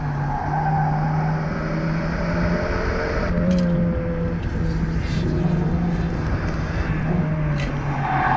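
A tuned VW Golf I drives past with a steady engine drone, and a brief whine or squeal rises partway through, all under continuous road and wind noise with no talking.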